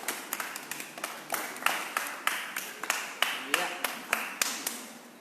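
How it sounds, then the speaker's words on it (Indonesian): Clapping from a small audience greeting guests at a live talk show in Tuban, a steady run of sharp individual hand claps with a few people clapping unevenly at moderate volume. "tepuk tangan semuanya untuk Tuban Local Guide"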